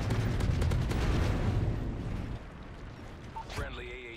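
Predator missile strike explosion in the video game Modern Warfare 3, a heavy, loud rumbling blast that fades after about two seconds, followed by a short electronic tone and a voice.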